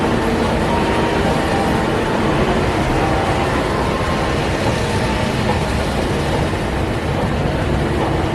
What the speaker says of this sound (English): So the parking trams, in my opinion, are a very interesting piece of Disney infrastructure. They're literally just road trains